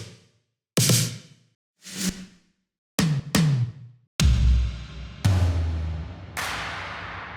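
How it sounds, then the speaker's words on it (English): Drum samples from the Cashmere pack for a disco-house intro fill: a series of separate punchy hits with noisy cymbal-like tails, three spaced strikes then a quicker cluster and sustained crashing hits, with no talking. "For the drums part of the fill, we're using a few samples from the Cashmere pack"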